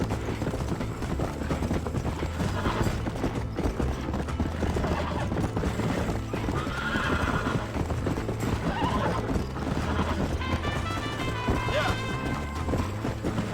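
A horse gallops with rapid rhythmic hoofbeats and lets out repeated neighs and whinnies in the Western video game Red Dead Redemption, loud and continuous over game sound effects.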